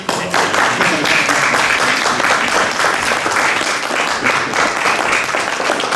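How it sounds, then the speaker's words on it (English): An audience at a vow renewal ceremony claps in steady, dense applause for several seconds, fairly close and loud, fading slightly at the end. "I think we deserve a wee clap for that"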